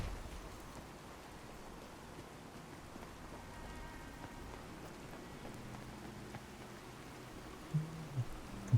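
Steady, quiet video game rain hiss fills the whole stretch, with a few soft thumps and low hums near the end.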